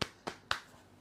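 Hands patting a person's calves during a massage, three sharp, evenly spaced slaps about a quarter second apart, close and crisp, followed by a fainter fourth tap.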